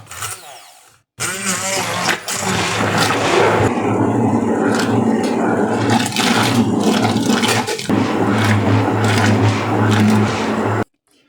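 A kitchen blender puréeing plums for Georgian-style tkemali sauce cuts in abruptly with a loud, steady whirring roar, holds for about ten seconds with a couple of brief dips, then stops sharply.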